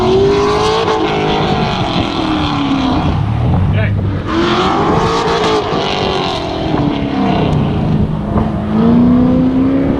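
A Chevrolet Corvette Z06 engine roars loudly as the car accelerates, the pitch climbing and dropping through repeated gear pulls, heard close from the moving car with voices over it.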